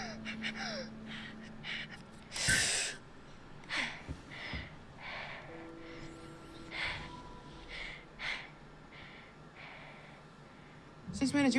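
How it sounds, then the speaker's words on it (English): Labored, wheezy asthmatic breathing from a character in The Devil in Me horror game, with sharp gasps and heavy breaths repeating irregularly at close range, mixed with quiet game ambience and brief talk. "Half our characters have breathing problems in this game."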